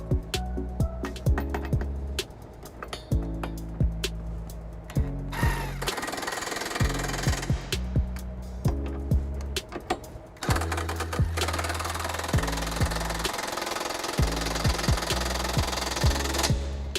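An impact wrench with a 19 mm socket and extension drives a trailer hitch bolt on a 2020 Toyota Sienna, loud rattling hammering bursts repeating in short runs with brief pauses, then a longer sustained run.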